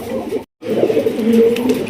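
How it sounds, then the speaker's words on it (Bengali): A pair of sky-blue Rasgolla pigeons coo softly nearby, a low continuous burbling broken by a brief silent gap. "এখানে রয়েছে একজোড়া আকাশি কালারের রাসগোল্লা কালেকশন"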